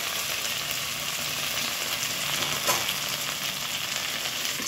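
Tomatoes and cooked onions frying together in a pan for dhaba-style bhindi, a loud, continuous sizzle with a faint stir midway, close and steady with no talk.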